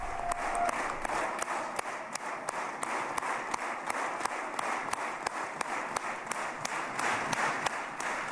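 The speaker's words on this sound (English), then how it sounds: "Lots of applause going on now." Applause rises in the Israeli parliament, the Knesset, as Donald Trump arrives to speak: a continuous wash of hand-clapping from a large chamber crowd, with sharper individual claps standing out, heard from a distance and fairly subdued.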